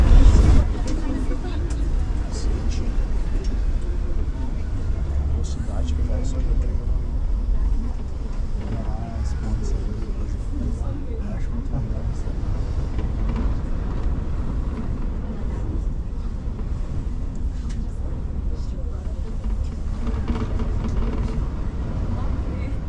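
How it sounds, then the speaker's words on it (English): A steady low mechanical rumble of the Roosevelt Island aerial tram cabin crossing the river into Manhattan, New York City, runs throughout, with a person speaking over the hum. "taking the tram across the river into Manhattan"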